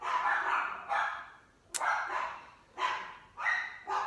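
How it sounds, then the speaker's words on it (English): Dogs bark at the mailman arriving, several sharp, close barks and yips in uneven bursts with short pauses between, loud and alone. "My dogs are barking."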